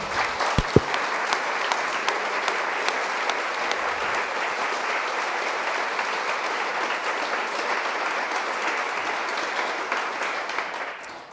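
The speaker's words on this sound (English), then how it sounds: "Please give that a round of applause." An audience gives a sustained round of applause at an event at the Ethics Centre in Sydney, dense even clapping from many hands that holds steady for about ten seconds before tapering off.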